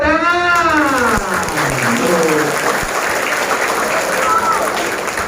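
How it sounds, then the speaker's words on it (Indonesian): Applause from a school gathering at an Indonesian state elementary school fills the whole stretch, a steady wash of many hands with a voice rising over it near the start. "tepuk tangan"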